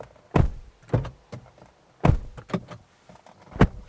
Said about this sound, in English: That's what the door slam sounds like.